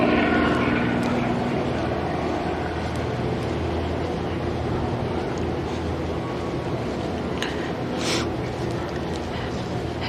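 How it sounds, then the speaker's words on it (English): A helicopter drones overhead at Walt Disney World, a steady low rumbling engine and rotor noise that holds throughout, with faint talking underneath. "helicopter."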